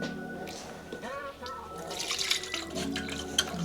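Melted wax pours and trickles steadily into a can, with a splashy, running-liquid texture close by and a faint voice in the background.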